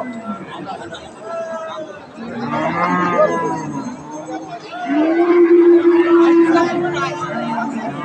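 Crossbreed dairy cow, thin and restless at a cattle market on a hot day, lowing in several drawn-out moos, the last long and loud, with crowd chatter and voices in the background.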